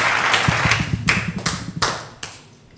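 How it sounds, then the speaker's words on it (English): At a children's quiz contest, a small audience claps in a few short, uneven bursts that are close and moderately loud, then trail off toward silence. "Please clap for me."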